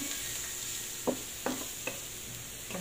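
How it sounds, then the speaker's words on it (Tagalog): Garlic frying in melting margarine in a pan, a soft steady sizzle at low level with three or four light stirring taps, close and quiet, no talking. "habang tinutunaw natin yung margarine, sinabay na natin yung bawang"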